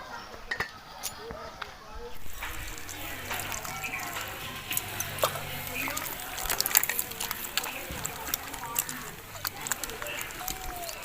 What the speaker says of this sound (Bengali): দু তিনবার আমি এইভাবে জল পাল্টিয়ে ধুয়ে নেব